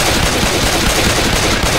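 Rapid continuous gunfire from shooting at zombies in Left 4 Dead 2, a dense, loud stream of overlapping shots with no pauses or talk.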